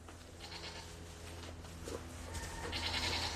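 Goats bleat during milking, one fairly clear bleat amid low barn background noise, with faint rustling and movement close by.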